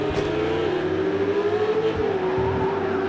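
Race car in Project Cars 2 accelerating hard out of a hairpin at Barcelona, a steady loud engine drone with a rising whine that holds throughout, close and continuous.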